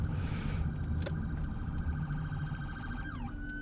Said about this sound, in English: Police car threading the needle.